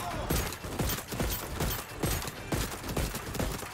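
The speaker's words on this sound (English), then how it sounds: "Shotgun! Oh yeah, this feels good," Gunfire in the Voidtrain video game arrives as a rapid run of sharp, close shots, around four per second. Each blast is punchy, with a rumbling tail between them.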